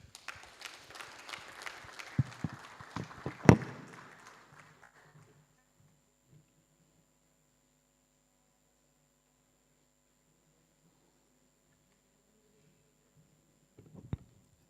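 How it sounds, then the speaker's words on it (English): Audience applause at the opening of the NIPetE 2024 annual petroleum conference, a dense burst of clapping for about four seconds that fades out into near silence, with a faint hum and a little clatter at the very end. "Another round of applause to our minister"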